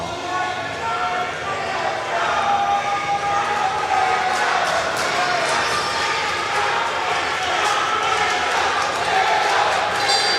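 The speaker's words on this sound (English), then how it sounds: "now the crowd's getting into it again" A kickboxing arena crowd at a Wu Lin Feng event in Canada's PanAM Centre, a steady, dense roar of cheering and shouting with scattered claps and thuds, a commentator's voice mixed in throughout.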